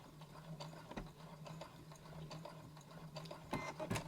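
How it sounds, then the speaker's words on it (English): A sewing machine lock stitching the fabric of a drawstring bag, a fast steady mechanical whirr with rhythmic needle clatter, close and fairly quiet, no talking. "So we're lock stitching there."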